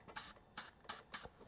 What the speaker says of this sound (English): You're gonna use a little bit of silicone spray,